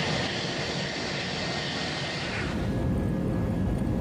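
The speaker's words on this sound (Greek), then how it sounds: "ένα Airbus της Aegean, πετώντας σήμερα πάνω από την Πελοπόννησο" An Aegean Airlines Airbus airliner passes over the Peloponnese, its broad engine roar loud and steady throughout, swelling slightly toward the end with no voices.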